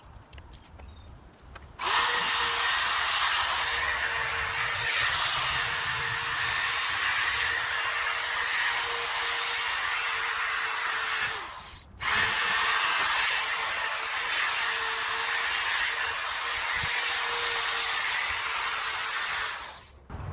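A steady, loud power-tool whir sanding a Subaru Crosstrek headlight lens runs nearly continuously with a constant pitch, stopping briefly midway before starting again; no voices.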